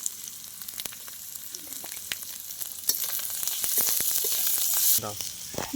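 Chili, turmeric and coriander powders fry in a pan for a spiced potato curry: a dense, bright crackling sizzle with frequent sharp clicks, growing louder toward the end, with no voices.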